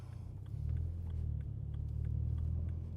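Car engine rumbling steadily from inside the cabin while driving through town, a continuous low drone that swells slightly as the car pulls away, with no talk.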